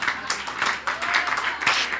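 A church congregation claps during a sermon, a short burst of dense applause over two seconds, fairly close and uneven in intensity.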